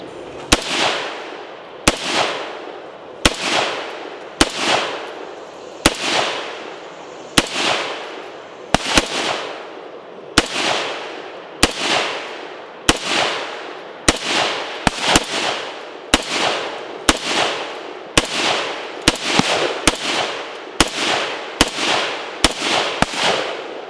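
A 51Fifty rifle fired repeatedly outdoors at a shooting range, about twenty sharp loud cracks at a steady rhythm of roughly one per second, each with a short echoing decay.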